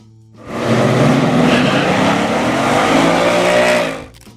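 A 1968 Plymouth Roadrunner muscle car engine roars loud and close, revving hard in one sustained burst that holds steady for several seconds before cutting off.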